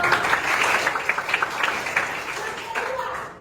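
Applause from a class, a short, dense round of clapping that fades slightly toward the end.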